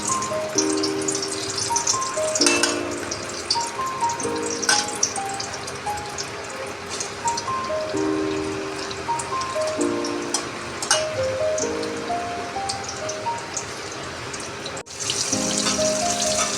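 Pieces of peeled, chopped roasted eggplant coated in gram flour batter fry with a steady, close hiss and crackle under continuous tonal background music.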